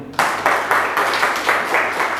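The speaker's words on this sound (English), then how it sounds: "Again, applause goes to him." Audience applause at a Toastmasters speech event in Dubai, a short burst of steady clapping from a room of listeners, close and fairly loud.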